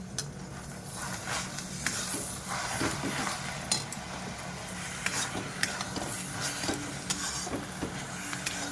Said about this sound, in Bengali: নারকেলটা দিয়ে ভালো করে এর সঙ্গে মিক্স করে নেব গুড়ের সঙ্গে